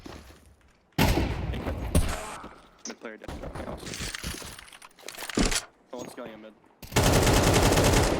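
Gunfire in the Counter-Strike 2 video game, with bursts of loud, dense shots, a sustained rapid volley at the end and crunchy game effects between them. A voice speaks over the action throughout.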